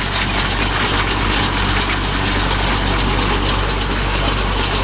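A Kubota MU4501 four-wheel-drive tractor working a Bharat scaleless baler, a loud, steady, low diesel drone with a rapid mechanical ticking rhythm over it, close and unbroken throughout.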